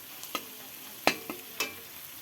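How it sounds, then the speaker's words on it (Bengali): Onion and green chili frying with cumin seeds in a pan, a steady faint sizzle broken by a few sharp spatula scrapes and clicks against the pan, close and unhurried, with no talking. "আর এখানে দিয়ে দিয়েছি জিরে ফোড়ন আর পেঁয়াজটা আর লঙ্কাটা দিয়ে ভাজা ভাজা করছি"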